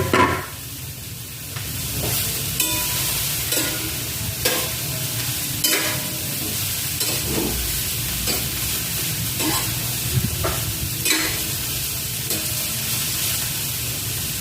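Pechay and tofu cooking in a pan, a steady sizzling hiss throughout with repeated scraping strokes of a utensil stirring at irregular intervals, close and clear.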